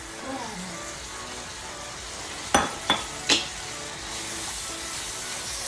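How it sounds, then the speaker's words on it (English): Bourbon and bacon sizzling as they cook down in a pan, a constant bright frying hiss with a few quick clinks of a utensil against the pan partway through. "I'm gonna go ahead and add my bourbon. Gonna let this cook down, as well as my bacon."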